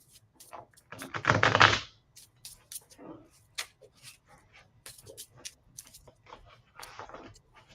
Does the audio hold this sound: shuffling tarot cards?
yes